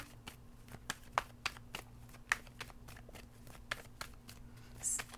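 Tarot cards are shuffled by hand during a reading, giving a quiet series of crisp, irregular riffling snaps and flicks spaced across several seconds over a low steady background hum.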